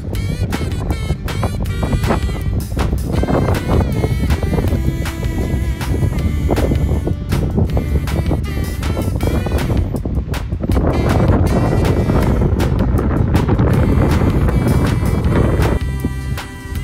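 Steady wind roars past the microphone at the cliffs of Mt. LeConte on the Rainbow Falls Trail in December, a loud, continuous gusty rush with no voices.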